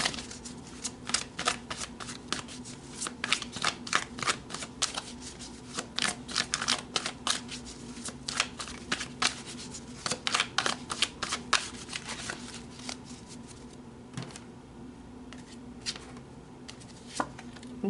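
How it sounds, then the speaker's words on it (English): Tarot cards being shuffled up close, a quick run of crisp riffling clicks and flicks repeating in irregular bursts over a faint steady hum, with no talking. "let's pull some more cards"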